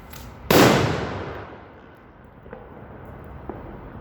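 A 1 gram flash powder firecracker goes off in the middle of a street with one sharp, loud bang, then a long rolling echo that fades over several seconds, followed by faint distant pops.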